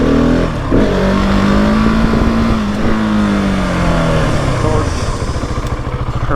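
A 2020 Husqvarna 701 SM motorcycle revs hard at high RPM, its loud engine note climbing and holding steady close to the microphone, with a rider's voice talking over it.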